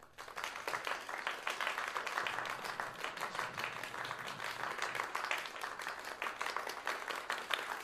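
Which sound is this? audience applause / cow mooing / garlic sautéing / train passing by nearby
audience applause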